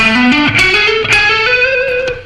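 Distorted electric guitar plays a short rock lick, sliding up the third string through a few sustained, buzzing notes, loud and solo.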